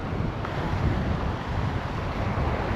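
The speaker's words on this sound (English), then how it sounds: "still windy." Steady gusts of wind at a beach roar and buffet the microphone, a broad constant rush with no voices.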